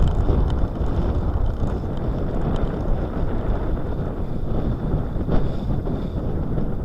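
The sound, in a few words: wind at sea on a sailboat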